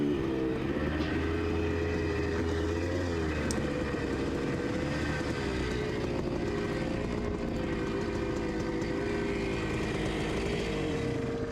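A motocross dirt bike engine stuck at half throttle drones continuously with a steady buzzing tone that dips slightly and rises again, moderately loud, with no talking.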